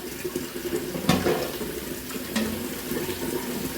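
Beef gravy pouring and splashing into a pot of biryani, a continuous watery rush with a couple of brief clanks.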